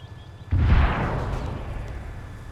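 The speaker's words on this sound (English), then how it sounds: "be ready for loud explosions" A loud explosion from a demolition charge during a military exercise bursts in abruptly, a single deep boom that rolls off into a long fading rumble.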